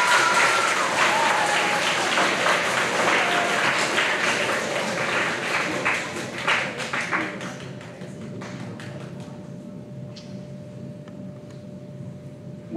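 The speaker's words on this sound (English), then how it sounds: "let's give a round of applause to our seventh grade teachers" A school awards ceremony crowd gives a long, dense round of applause for seventh grade teachers, loud and steady at first, then thinning to scattered claps with a faint steady hum beneath.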